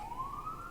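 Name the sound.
police car siren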